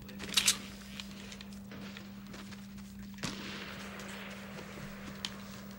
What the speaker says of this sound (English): Shots on Loot Lake.